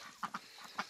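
Young chickens just reaching adulthood, not yet laying, in a farm flock give a few short clucks, three distinct calls spaced across a quiet moment, fairly close and without talk.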